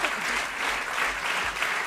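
Steady audience applause at a French tribute event, dense and continuous clapping throughout, fairly close with no voices above it.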